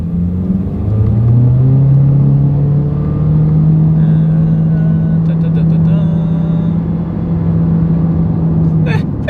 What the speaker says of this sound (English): let's see how quickly we can get our new 2023 Honda HR-V here up to speed